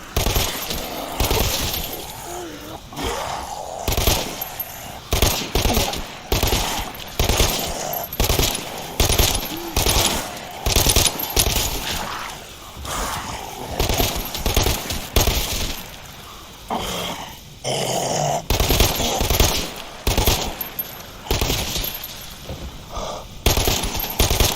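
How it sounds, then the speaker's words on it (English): Repeated gunfire at zombies through a fence in the Dead Island 2 video game, a long run of loud sharp shots and bursts in irregular rhythm, with occasional breaking and impact noises and no talk. "we can sit here with our guns and just take pot shots at them through the fence"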